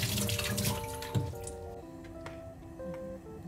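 Tap water running into a bowl while mushrooms are rinsed in a kitchen sink, a steady near splash with small drips and clinks, no talking.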